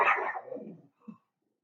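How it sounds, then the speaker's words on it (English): A single dog bark up close, a short burst followed by a softer trailing yelp, then quiet. "Dog's barking."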